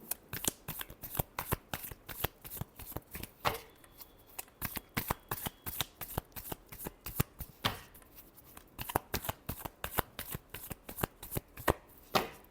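A deck of tarot cards being shuffled during a Cancer sign reading, with rapid, crisp riffling flicks repeating steadily and close up, broken by a couple of short pauses and no talking.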